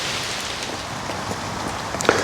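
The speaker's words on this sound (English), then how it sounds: "Well, the rain's not stopping" Steady rain falls on a garden pond under construction beside a feature wall, a faint, continuous patter with one slightly louder drip or tap near the end and nobody speaking.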